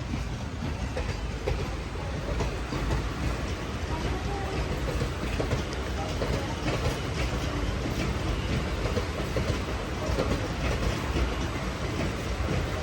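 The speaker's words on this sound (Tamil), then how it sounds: "நம்ம மங்களூரில் இருந்து சென்னை எக்மூர் வரைக்கும் போகிற ட்ரெயின் இந்த பக்கம் வந்திருக்குங்க" A Mangalore to Chennai Egmore passenger train rolls past at a station, a loud steady rush of wheels and carriages with clickety-clack rhythm filling the whole stretch without a break.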